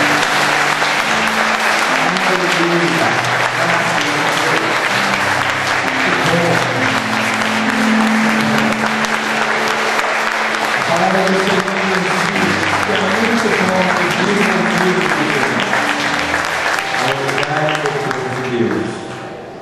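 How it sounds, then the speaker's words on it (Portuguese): A congregation at a church retreat claps for the Lord in a long, dense round of applause, with singing and voices running beneath the clapping until it fades at the end. "dar um salve, palmas do Senhor"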